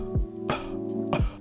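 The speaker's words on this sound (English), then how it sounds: "The ends of those coughs are not sharp." Two short demonstration coughs of the kind used for a vape O-ring trick, each with a breathy burst and a soft trailing end, close and fairly loud over a steady background hum.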